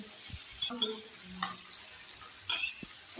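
Kohda (pumpkin) vegetable sabzi sizzles in a hot pan while a utensil stirs and scrapes it, with a few soft clinks over a steady frying hiss.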